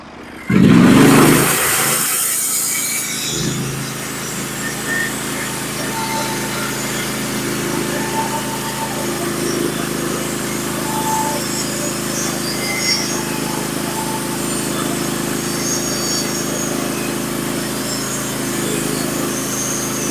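A Norwood HD36v2 bandsaw sawmill with a sharpened Stellicut band and new roller guides cuts red oak, a steady engine drone and band hum running continuously after a loud opening burst.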